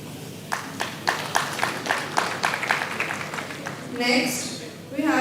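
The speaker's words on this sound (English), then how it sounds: "Give a huge round of applause as we welcome our guest." Audience applause at a corporate learning and development event, a burst of clapping rising and falling over several seconds before a voice begins speaking near the end.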